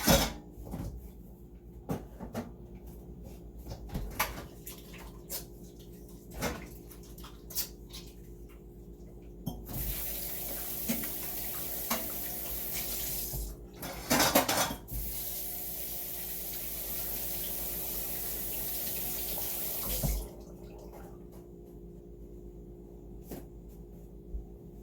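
A kitchen tap runs in a steady hiss for about ten seconds as hands are washed, with scattered clinks and knocks of kitchen items before and after.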